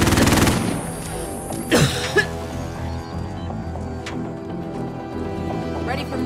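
Sentry gun in Call of Duty: Modern Warfare firing rapid automatic bursts, loud and close at first and then thinning into scattered shots amid battle noise while voices talk over it.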